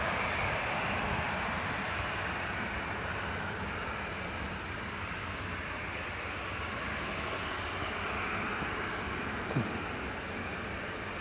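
An Emirates airliner lands on runway 07 at Newcastle International Airport, its engine roar a steady broad rumble heard from a distance for over ten seconds.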